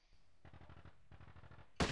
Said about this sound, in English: Let's see if we can fire on them.